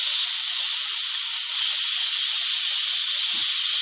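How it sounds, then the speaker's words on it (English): Hot steam venting from an Instant Pot DUO Mini pressure cooker, a steady, loud, continuous hiss with no pauses, heard alone throughout. "That's hot steam, so you don't want to put your hands in front of it, or especially your face."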